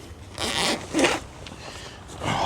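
A zipper closes on the vestibule of a Bereg UP-7 tent in several quick, close, raspy pulls with short pauses between them.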